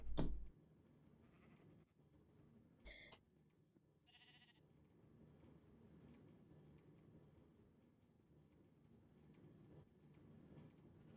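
A few short sheep bleats from Minecraft, spaced apart and fairly faint, over a quiet, low background hum.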